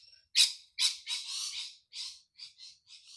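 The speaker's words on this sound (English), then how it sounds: "there's a lot of loud birds around here" Loud birds squawking and calling outdoors in a burst of harsh, repeated cries, several overlapping calls in quick succession with short gaps, close and piercing.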